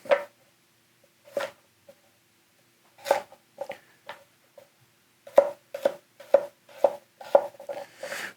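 A gyuto chef's knife chops through sweet potatoes on a cutting board in sharp, close knocks, a few scattered strikes at first, then a quicker run of evenly spaced chops near the end, with silence between.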